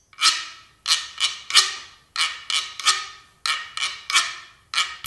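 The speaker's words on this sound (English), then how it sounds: "whirro," A guiro (whirro) is scraped in a quick, uneven rhythm: about ten short, rasping strokes in close succession, bright and close, with no other sound.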